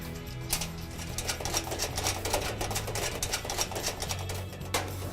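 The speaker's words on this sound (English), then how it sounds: "Flat screwdriver, my ratchet." A ratchet and flat screwdriver tighten a nut and lock washer onto a replacement caster wheel on a Crown Verity unit, giving a steady run of close, rapid metallic clicks and rattles that continue throughout.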